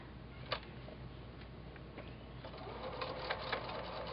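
A sewing machine runs faint and steady while stitching quilt binding under the presser foot, with soft ticking clicks scattered through the hum.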